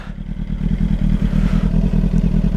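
Suzuki GSR600 superbike engine running steadily during a ride, a loud, continuous low throbbing drone with a regular pulsing beat and no voices over it.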